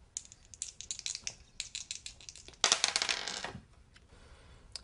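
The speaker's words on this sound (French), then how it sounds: "Tire les dés." Dice rolled and clattering across a hard surface, a string of quick rattling clicks followed by a louder, denser burst of tumbling near the middle, then a few faint settling ticks.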